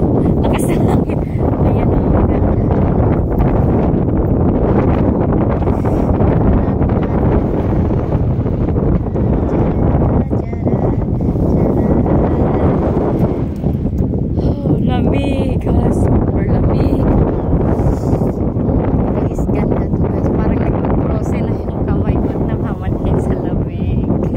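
Strong wind buffets the microphone in a continuous loud roar at a reservoir dam, with some voices faintly audible beneath the gusts.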